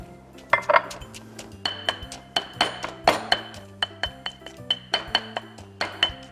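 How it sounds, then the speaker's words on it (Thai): Steady rhythmic pounding of herbs including lemongrass in a stone mortar, repeated sharp knocks with ringing clinks, close and fairly loud, no voices. "แล้วก็มาโขลกครับเท่านั้นเอง"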